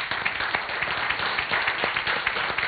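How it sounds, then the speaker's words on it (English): A church congregation stands and claps for a departing couple, a moderate patter of many hands with distinct individual claps audible, heard from a middle distance without speech. "I think we need to stand and give them an applause."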